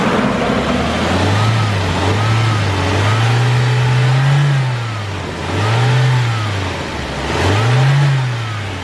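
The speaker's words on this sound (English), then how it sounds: "just a few revs." A warmed-up Nissan S14 Kouki engine revs repeatedly, its pitch climbing and falling in several swells, loud and close, with a steady idle rumble between revs.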